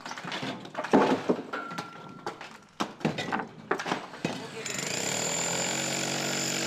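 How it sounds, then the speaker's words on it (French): Electric jackhammer demolishing stone blocks from a building facade: bursts of sharp clattering impacts and knocks, then a sustained loud hammering rattle near the end. "Pour aller plus vite, nous utilisons un marteau-piqueur électrique."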